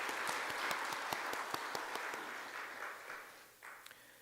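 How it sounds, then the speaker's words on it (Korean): A church congregation claps steadily during a Sunday service, a dense patter of many hands that carries on for several seconds and thins out near the end. "정길자 권사님, 잠깐만 일어나 주시면 우리가 박수로 예, 권사님 어서 오세요."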